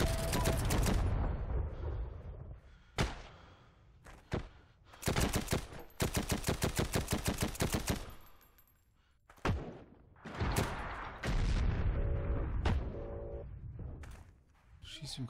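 Gunfire in the video game Heroes & Generals: rapid machine-gun bursts and single shots crack and thump in close succession, with heavy rolling blasts, and a voice talks over the shooting at times.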